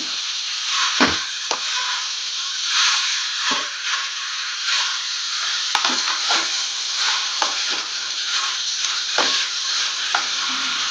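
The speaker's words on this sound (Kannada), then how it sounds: "ಈಗ ಕೊತ್ತಂಬರಿ ಸೊಪ್ಪನ್ನು ಹಾಕೊಂಡು ಫ್ರೈ ಮಾಡ್ಕೊಳ್ತಾ ಇದ್ದೀನಿ" Green tomato chutney with fresh coriander leaves sizzles and hisses steadily in a hot pan, broken by several sharp stirring scrapes and clinks, loud and close with no speech.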